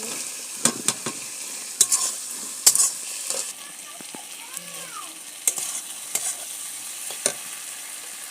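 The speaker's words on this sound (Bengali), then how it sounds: "ভাজা আলুগুলো দিয়ে দিচ্ছি" Fried potatoes are stirred in a sizzling frying pan while making bata fish curry, with repeated sharp scraping strokes of the spatula against the pan over a soft frying hiss and faint voices.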